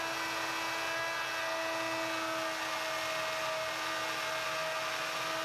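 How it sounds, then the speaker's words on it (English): A router with a pattern bit cuts wood along a template for a bookcase side, giving off a steady high whine with a constant tone, close and unbroken throughout. "used the same pattern bit to trace the template I had just made onto the other side"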